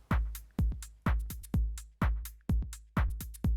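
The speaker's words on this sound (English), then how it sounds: "So just a nice fat drum loop" A punchy house drum loop with heavy booming kicks on a steady four-on-the-floor beat, crisp snares and bright hi-hats, loud and close.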